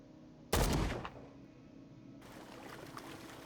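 One loud, close gunshot in the horror video game Call of Cthulhu, with a short decaying tail, followed by a low, quiet ambient hum.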